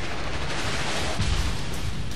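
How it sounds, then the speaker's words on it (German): Naval gunfire in the World of Warships video game, with shells striking a ship in a dense, constant rumbling barrage and a heavier thump of impacts near the middle. "wie genau kommen die Schüsse gerade?"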